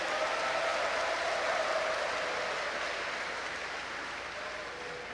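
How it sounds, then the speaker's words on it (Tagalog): Steady broadband applause from a large crowd at a provincial anniversary celebration in Misamis Occidental, dense and sustained throughout, slowly fading toward the end, with no voices on top. "Atong tagaan og masipang palakpak ang atong tagsa-tagsa"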